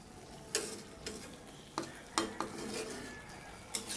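Chicken liver being stirred and mixed in a pan, with several sharp scraping clinks of a utensil against the pan at uneven intervals over a soft background sizzle, close and moderately loud without talk.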